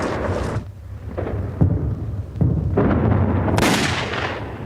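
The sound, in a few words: bombing raid explosions in WWII documentary, Clark Field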